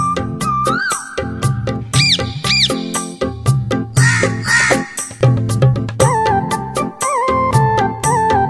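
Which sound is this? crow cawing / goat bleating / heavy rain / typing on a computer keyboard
crow cawing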